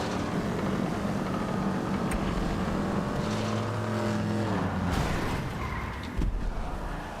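Car engine driving in the video game GTA Online, a steady continuous engine drone with shifting pitch sweeps, sustained and fairly loud throughout, with no talk.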